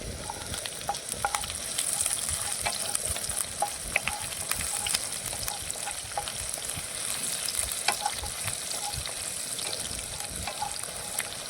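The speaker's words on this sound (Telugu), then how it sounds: "అట్లాగే పచ్చిమిర్చి కూడా ఫ్రై చేసుకోవాలి." Green chillies fry in hot oil for poha, giving a steady, close crackling sizzle with scattered pops and light stirring scrapes throughout, and no voices.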